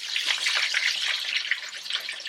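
Hot water pours steadily into an old cooking pot (handi) holding chicken tikka for steam roasting, a close, continuous splashing gush with no talk.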